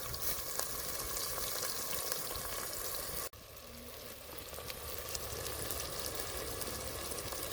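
Cinnamon and whole spices sizzling in hot oil for bagarannam, a dense steady crackling hiss close up, with a brief break midway before the frying continues evenly, no talk.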